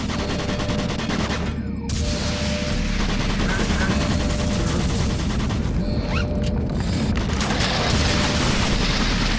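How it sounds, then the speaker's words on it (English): Rapid sustained bursts of automated turret gunfire in Doom 3: BFG Edition on the Monorail level, loud and continuous with booming impacts, layered with game noise and a voice speaking at times. "Warning, automated turret guns online."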